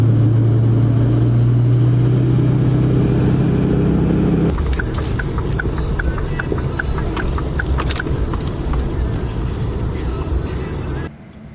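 A loud engine with no muffler runs steadily and close by, its raw roar shifting about midway into a harsher, busier rattle with rapid ticking before it cuts off abruptly near the end.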